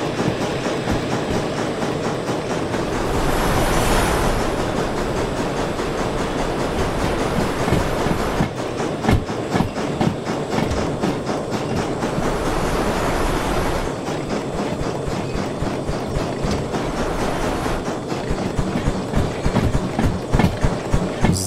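A large steam locomotive in the Derail Valley simulator hauls a coal train uphill at low speed, with dense continuous chuffing and rhythmic clickety-clack of wheels on rail joints, steady and close throughout.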